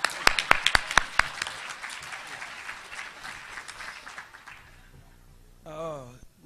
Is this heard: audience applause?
yes